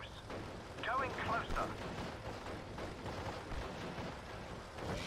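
Spitfire bombing runs in Steel Division: Normandy 44 produce rumbling explosions and distant gunfire, a steady low battle din with a brief louder burst early on and voices over it.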